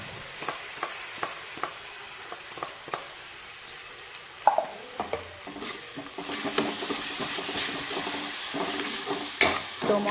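Ginger and tomato spice paste sautéing in a pan for rajma chawal, with a spatula scraping and stirring in bursts over a steady sizzle that grows denser and louder in the second half, no talking.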